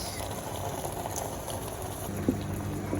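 Red palm oil heating in a cooking pot for pondu (saka-saka), a steady bubbling sizzle with soft crackles and a couple of sharper pops near the end, heard close with no talking.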